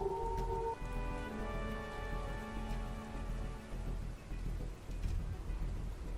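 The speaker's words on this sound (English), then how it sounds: "despite the thunder concussions of the storm, occasionally, barely over the rain" Steady rain pours down in a thunderstorm ambience, a dense continuous hiss of drops with low rumbling underneath and faint tonal music lingering at the start.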